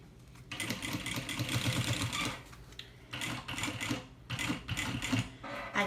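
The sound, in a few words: sewing machine stitching a thermal bag lining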